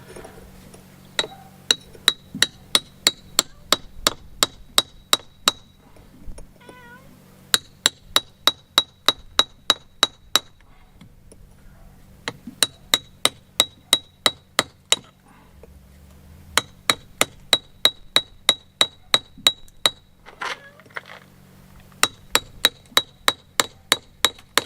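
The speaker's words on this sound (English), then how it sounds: "I'm just going to use a little chisel with the hammer just to try and get that bit off." Small chisel driven by a hammer into stone during cold, windy winter stonework repairs, giving bursts of sharp, ringing metallic strikes in quick rhythmic runs, separated by short pauses, close and clear over a low background hum.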